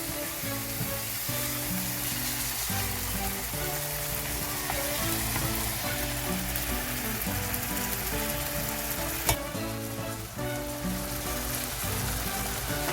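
Eggs go into a pan of sautéed tomatoes for menemen, and a loud, continuous sizzle of frying fills the pan for the whole stretch, with background music running underneath.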